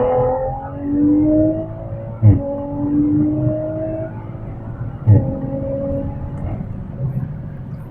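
A Toyota A90 Supra accelerates on an open road, its engine note climbing steadily through the gears with two sharp shift thumps, loud and close from inside the car.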